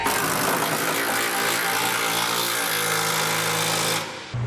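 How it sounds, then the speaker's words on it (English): A power tool tightens hitch bolts for a B and W Companion 5th wheel underbed hitch kit, a loud continuous rattling impact hammering that runs for about four seconds, then cuts off abruptly. "now we can tighten down the two bolts that are attaching it to"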